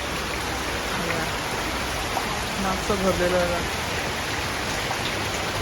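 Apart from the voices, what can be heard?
heavy rain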